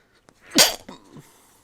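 A single sharp sneeze bursts out close by, followed by a brief softer exhale and faint rustling.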